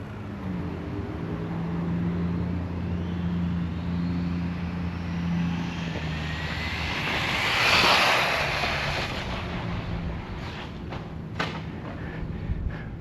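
HPI Savage XS Flux RC car on a top-speed run, its motor a steady whirring drone that swells into a loud high-pitched rush as it passes close midway, then fades back to a lower hum.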